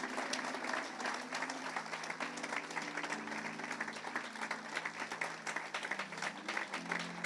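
A church congregation claps continuously, a dense, fairly faint patter running throughout over sustained music tones.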